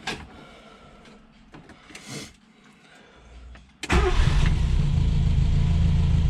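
A Renault 4L with a newly replaced starter motor gives a few brief cranking noises, then its engine catches and settles into a loud, steady idle up close.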